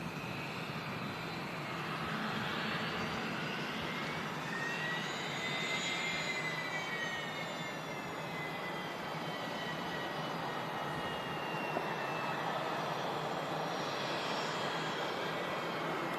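An EasyJet airliner passes by in the foreground at Manchester Airport, departing for Malaga, its jet engine a steady, distant roar with a rising and falling whine that lasts through the whole stretch.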